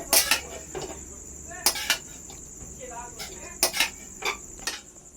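A spatula stirs cooked noodles with spice mix in a pan, giving irregular, sharp metallic clinks and scrapes separated by short quiet gaps.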